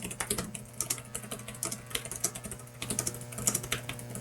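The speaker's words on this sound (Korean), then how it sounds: "타이핑하는 소리는 다른 키보드와 비교해 봤을 때 그냥 조용한 편에 속하는 것 같아요" Typing on a Logitech K380 keyboard, close-up and fairly quiet, with irregular soft key taps in quick bursts and short pauses, no voices.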